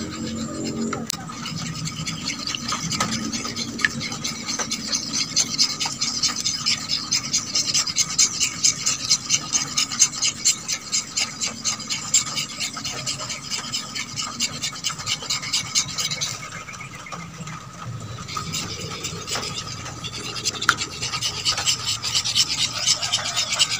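Ingredients for a photosynthetic bacteria culture being stirred in a container, giving a steady rasping, scraping rub that repeats in a fast rhythm, close and fairly loud throughout with a brief pause near the end.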